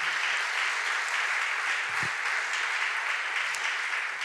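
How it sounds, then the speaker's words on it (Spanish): Steady applause from a church congregation, a dense, even wash of many hands clapping at constant loudness with no talk. "Dale ese aplauso a Él entonces."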